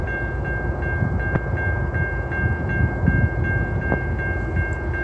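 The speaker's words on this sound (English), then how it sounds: "We are filming a freight train. It is a citirail and a CN engine." A CN and Citirail freight train rolls past with steady low rumble and rail noise, a sustained tonal ring riding above it and periodic clicks from the wheels, loud and continuous throughout.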